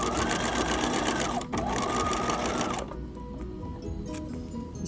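A sewing machine stitches an invisible zipper into fabric, running loud and close in a steady whirring drone with a brief pause, then stopping as quieter handling noises follow.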